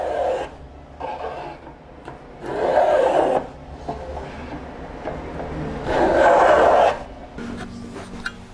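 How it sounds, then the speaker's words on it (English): Hand sawing dovetail pins in a wooden drawer front, bursts of rasping back-and-forth strokes, two longer loud runs separated by quieter scraping and pauses, close by. "So I'm sawing out the pins here on the drawer front."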